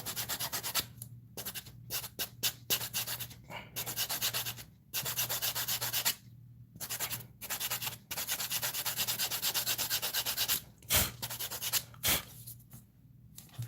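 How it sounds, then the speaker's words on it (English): Sandpaper rubbing along the edge of a leather belt in steady back-and-forth strokes, broken by short pauses, close and fairly loud. "and sand it off. So we sand it using this."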